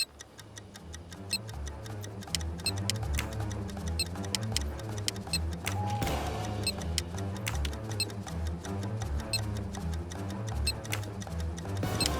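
A bomb timer in the Murder on the Orient Express video game ticks steadily and evenly for a long stretch, the crisp clicks sitting over a low, droning background.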